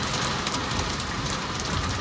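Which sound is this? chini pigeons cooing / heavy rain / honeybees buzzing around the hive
heavy rain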